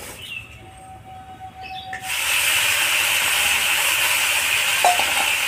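Potato, eggplant, pumpkin and radish pieces, with green chilli, dropped into hot oil for light frying; a quiet start gives way to a sudden, steady loud hiss and sizzle that continues to the end.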